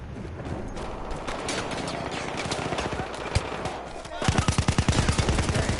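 Rapid bursts of automatic gunfire and single shots crackle through a five-versus-five team deathmatch shooter, dense and continuous, growing louder with sharp rhythmic volleys near the end.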